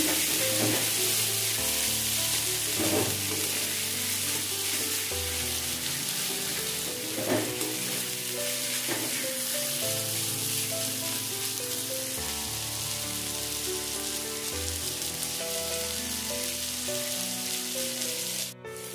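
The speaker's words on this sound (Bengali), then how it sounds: "টমেটোটা দিয়ে ভালো করে আর একটু নেড়ে নেব।" Tomatoes fry in a pan for a potato mutton curry and are stirred, making a continuous crackling sizzle with repeated scraping strokes and soft knocks from the spoon.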